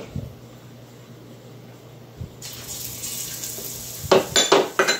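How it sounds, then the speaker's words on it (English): Chickpea curry with red and yellow ingredients sizzles in a pan: a faint low hum gives way to a steady, close hiss, and a few louder clatters and stirring knocks come near the end. "Hear that sizzle?"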